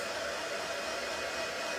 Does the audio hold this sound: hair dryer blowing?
yes